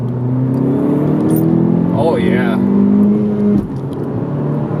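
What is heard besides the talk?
10th gen Honda Civic Si accelerating hard in second gear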